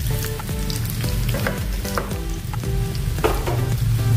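Curry leaves and dried red chillies crackle and sizzle loudly in hot oil for a spinach dish, a dense, steady frying hiss with bursts of popping, close up and without voices.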